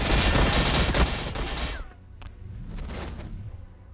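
Basilisk artillery gunfire in the strategy game Warhammer Battlesector, a dense roaring barrage of blasts for about two seconds, then a softer rumbling aftermath with a brief whoosh.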